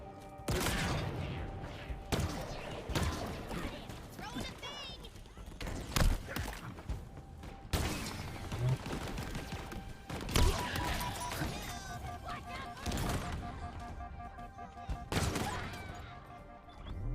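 Grenade explosions and gunfire in Halo Infinite: a rapid run of loud, close blasts and crashing bursts, one after another with hardly a pause, over a dense, noisy battle background with some voices mixed in.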